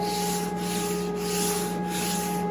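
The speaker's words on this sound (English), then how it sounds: "Sanding block takes the fuzz off." Steady back-and-forth rasping of a sanding block on birch wood cabinet parts, close and continuous, with a soft rhythmic swish as each stroke changes direction.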